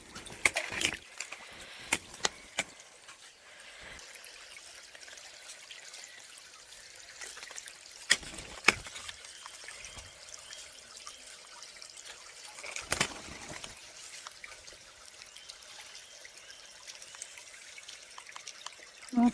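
A small sandstone-edged forest stream, the Ruisseau des Trois Bans, trickles softly and steadily at a distance, with scattered sharper splashes and clicks breaking through the faint flow.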